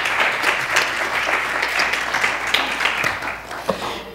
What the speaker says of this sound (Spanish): Dale un fuerte aplauso al Señor en esta hora.